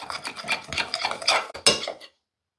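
A utensil mixing a lemon juice and black pepper marinade for grilled chicken in a bowl, a quick run of scraping and clinking strokes close up, ending abruptly in silence.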